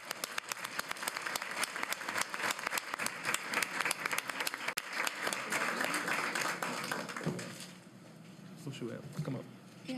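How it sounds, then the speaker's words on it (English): Applause for award winners at a school board meeting, a roomful of people clapping steadily and fairly loudly before it thins out and fades toward the end, with some voices beneath. "Let's give them all a round of applause"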